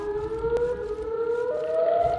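A wailing siren from Siren Head, the monster in a horror video game, blares with steady rising tones, loud and close, with a low rumble underneath and no voices.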